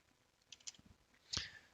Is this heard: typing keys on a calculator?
yes